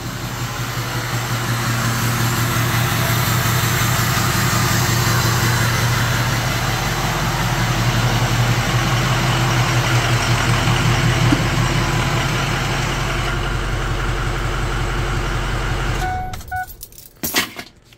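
A 2004 Ford 6.0 Powerstroke diesel truck engine idles steadily and loud for about sixteen seconds, a low rumble with rhythmic clatter, then cuts off abruptly, leaving brief faint clicks and rustling.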